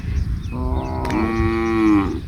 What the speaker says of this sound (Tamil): இப்போ பார்த்தீங்கன்னா பாருங்கள், மாடுகள் தண்ணி குடிக்கிறதுகள்